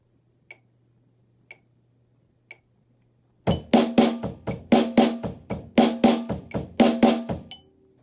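A drum pattern alternates kick and snare in a steady groove of sharp, loud hits, preceded by a few soft metronome clicks in near silence.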